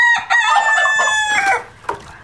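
A sanctuary chicken clucks and crows loudly and close, one drawn-out crow followed by a short cluck, with no other sound.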